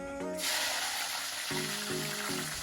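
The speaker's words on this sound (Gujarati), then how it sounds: "તો આપણે અહીંયા મરચાં પણ તળી દઈશું." Green chillies fry in hot oil alongside vada pav fritters, a steady close sizzling hiss, with brief musical tones in the background.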